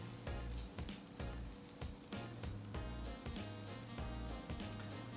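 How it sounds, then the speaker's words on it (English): Burger buns and small patties basted with fresh Prego sauce sizzle steadily on a hot surface, a dense continuous crackle with a low rhythmic hum underneath and no talking. "our buns are starting to sizzle nicely, which means the heat is coming through"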